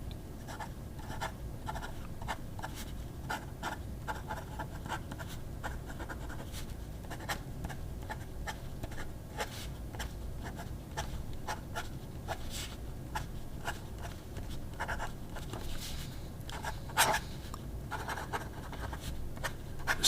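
A fountain pen nib scratches steadily across notebook paper in an agenda, a close, continuous run of short dry strokes and faint scritching with no talking.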